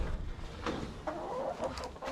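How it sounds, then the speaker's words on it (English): Hens in a new wooden coop cluck softly in short murmuring bursts, close and low, with light rustling and knocking around them. "let's see if the chickens seem like they like their new coop"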